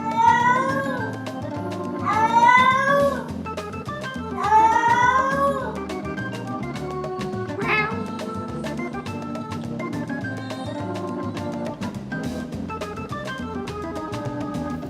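Several cats meow and yowl in a scuffle, with drawn-out rising cries in the first six seconds, then a sharp shriek and ongoing rustling and thumps of a close, busy indoor fight.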